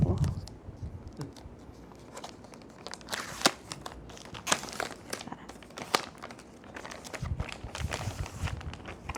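Packaging of a Miniso Toy Story toy keyboard is opened up close, with scattered crinkles, rustles and sharp taps and crunches spread throughout.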